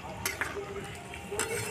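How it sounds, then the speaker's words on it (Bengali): Spices, including Kashmiri chilli powder, being stirred in a pan over low heat while cooking egg do pyaza, with a soft continuous sizzle and a couple of brief scraping clinks of a spoon against the pan. "ভালো করে কম আঁচে নাড়িয়ে নিতে হবে"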